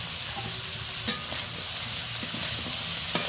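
Shrimp with drumstick pieces and potatoes, seasoned with salt and turmeric, fry and get stirred in a pan. A steady close sizzle runs throughout, broken by a few sharp clinks of the spatula against the pan.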